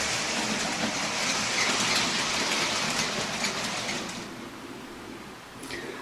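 A Bachmann Improved Precedent OO gauge model locomotive runs along its track with a steady, close whirring rumble that holds evenly before easing slightly near the end.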